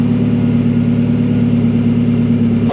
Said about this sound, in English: So we just turned his car on, let the coolant filter through the system